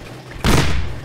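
A single heavy shotgun blast from the zombie video game Shambles, one loud close boom with a deep rumbling tail that fades over the following moment.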